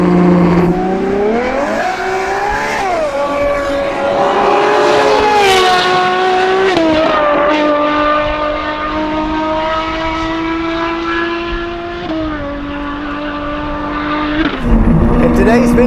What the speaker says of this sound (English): We are in the Ferrari A12 GTS, just an exceptional car with the NLargo